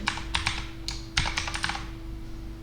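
Quick bursts of typing on a computer keyboard as a profile name is entered, several close keystrokes in two short runs and then a pause, with a steady low hum underneath.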